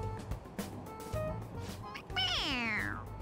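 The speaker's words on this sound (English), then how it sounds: "It meows when you press on its head." A stuffed toy cat in the game Persona 5 Royal gives a drawn-out electronic meow, clear and close, after a few short clicks and faint background sounds.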